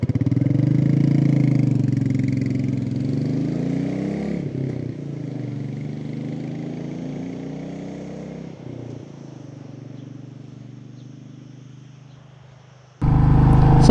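A Royal Enfield Meteor 350 motorcycle climbs a mountain road up Alto de Velefique, its single-cylinder engine droning steadily with shifting pitch and wind rush, loud and close, then cutting abruptly near the end.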